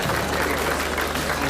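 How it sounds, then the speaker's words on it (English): Guests at a wedding give the bride and groom a burst of dense, steady clapping that fills the room for a second and a half. "A big round of applause for the bride and groom at the bridal waltz."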